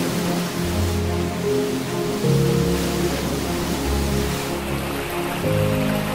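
A mountain waterfall fed by rainwater pours in a steady, dense roar, loud and continuous, with faint music underneath.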